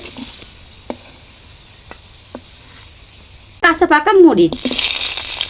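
Potatoes fry in mustard oil in a wok, with a loud, rushing sizzle surging in near the end after a quiet stretch of faint clicks; someone talks briefly over the start of the frying.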